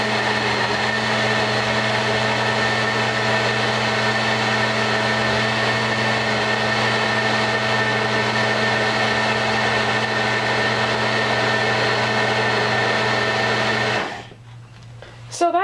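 A countertop blender whirs loudly and steadily, blending a vanilla strawberry banana smoothie, a constant high motor whine that winds down near the end before a brief rattle.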